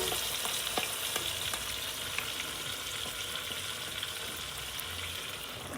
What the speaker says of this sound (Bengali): চিকেনটা দিয়ে ভালো করে কষিয়ে নেবো।